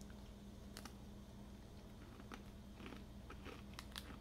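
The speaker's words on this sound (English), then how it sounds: "That's a nice crunch. It's like a nice butter cookie." A crunchy butter cookie snack from a Korea and Mexico snack sampling is bitten and chewed, giving several faint, close crisp crunches spread across a few seconds with no talking.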